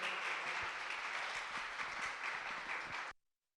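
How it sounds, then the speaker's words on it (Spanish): An audience at a lecture on Mexicans voting from abroad applauds warmly for about three seconds, a dense, steady wash of clapping from many hands that cuts off abruptly. "un caluroso aplauso para la consejera"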